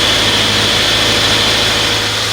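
A 2014 Subaru Outback idles steadily just after an oil change, its engine giving an even, continuous hum with a strong low rumble throughout and no voices.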